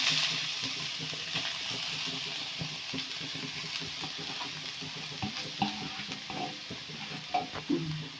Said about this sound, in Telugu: ఇప్పుడు క్యారెట్ వేసుకున్నాము